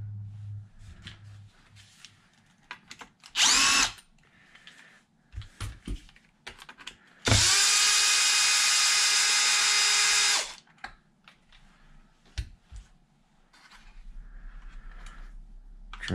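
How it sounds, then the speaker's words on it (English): A power drill removes a small screw from a Traxxas XRT RC truck, with a short whirr followed by a longer, loud, steady spin, set among small clicks and handling taps. "I think I gotta take out this little screw."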